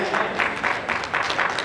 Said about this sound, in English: If you're going to clap, go ahead and clap.